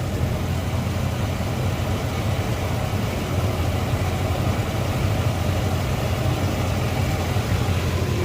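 A Ford Econoline E350 engine idles with a vacuum leak causing lean running, giving a steady, close, low rumbling drone that holds evenly from start to finish with no voices.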